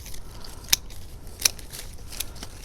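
Hand pruners snip through big tree branches during drastic pruning, two sharp distinct cuts about 0.7 seconds apart over quiet outdoor background.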